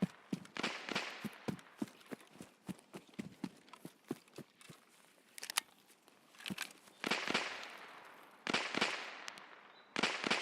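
Gunfire in a video game, aimed at a BTR armored vehicle: irregular bursts of sharp cracks and rapid volleys with quiet gaps between them, fairly distant and without speech.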